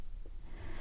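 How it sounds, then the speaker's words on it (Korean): Crickets chirping outside a garden wall: a faint, thin, high trill in two short bursts over a quiet low background, with no talk. "다시 귀뚜라미 소리로 바뀌었다."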